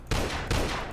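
Gunfire in a first-person shooter video game: loud, close shots in three rapid bursts that fill the whole second, with no talking.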